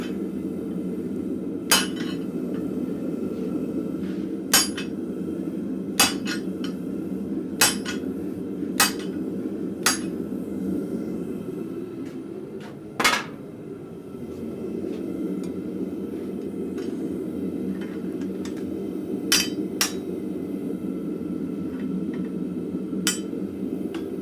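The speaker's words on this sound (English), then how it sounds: "I'm just taking a ball punch to just finish that off." A blacksmith in a forge shop strikes a ball punch with a hammer, sharp metallic clinks landing at irregular intervals over a constant low roar of forge blower or fire.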